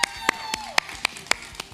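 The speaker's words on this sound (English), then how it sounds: "please give yourself a huge round of applause for learning how to juggle" Clapping at a juggling breakout session of a conference: about seven sharp, evenly spaced claps in a steady quick rhythm, close and distinct, with a faint sustained tone underneath.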